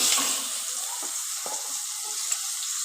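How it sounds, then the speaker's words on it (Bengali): Chopped onion frying in oil with panch phoron spices for a Bengali bhola fish curry, a steady soft sizzle with a few brief clinks and stirring scrapes, close and fairly quiet. "পেঁয়াজটাকে আমি একটু লাল লাল করে ভেজে নেব"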